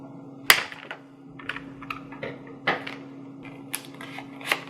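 Packaging for new egg tongs with silicone tips is torn open, producing scattered crinkles, snaps and rustles of plastic at close range against a quiet room hum.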